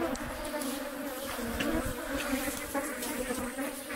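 African honey bees (Apis adansonii) swarm right around a camera in Casamance, Senegal, a dense, continuous buzzing hum that stays loud and close throughout, with no voices.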